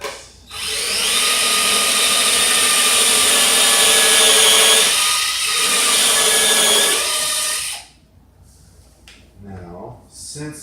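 A power drill bores into wood in one long, loud whine for about seven seconds, its pitch dipping briefly midway. It then stops, leaving faint handling noises.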